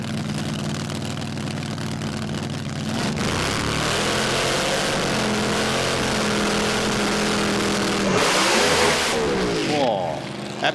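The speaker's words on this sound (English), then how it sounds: "absolutely lights the tyres up off the launch." A drag racing car at Willowbank Raceway roars loudly and continuously, surging with a sharper rise near the end as it launches and spins its tyres, with a commentator talking over it.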